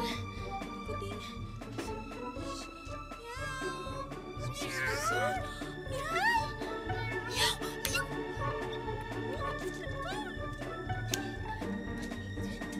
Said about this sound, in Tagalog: Nasaan yung kuting?